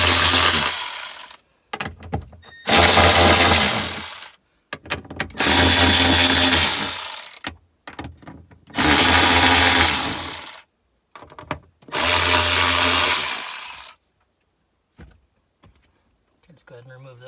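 A power tool removing five 10mm bolts inside an R56 Mini Cooper S during fuel filter work, running in five loud, close bursts of about one to two seconds each, separated by brief pauses and small clinks.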